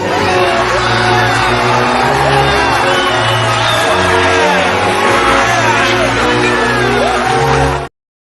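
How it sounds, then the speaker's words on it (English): A late-night talk show studio audience cheers and whoops loudly and continuously for about eight seconds, a dense wall of crowd noise with shouts over a steady low hum. "you get a round of applause."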